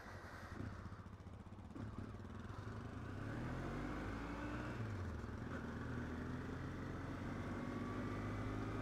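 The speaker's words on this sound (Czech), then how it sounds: "No, hezká je to motorka." A Yamaha Ténéré motorcycle engine runs steadily and close by, its low mid-pitched drone swelling as it revs up after about three seconds and then holding a sustained, even note to the end, with no talking.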